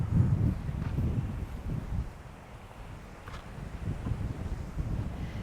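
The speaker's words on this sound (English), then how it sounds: "Way too windy for drones, hey?" Strong wind in Exmouth, Australia buffets the microphone in heavy low rumbling gusts, easing briefly before picking up again.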